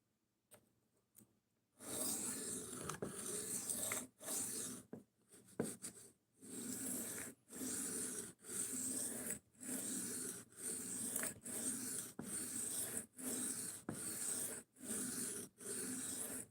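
A knife is drawn across a whetstone in even, repeated strokes, each a rough scraping rasp with short pauses between, close and quiet after a brief silent start.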